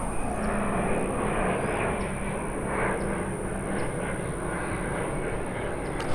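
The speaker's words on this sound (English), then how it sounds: "Oh, I see it, that's a private jet." A private jet passing overhead outdoors in nature, a steady broad roar of engine noise sustained throughout at moderate distance, with faint chirps above it.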